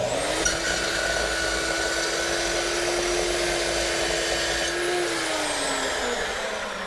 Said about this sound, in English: go back over to the chop saw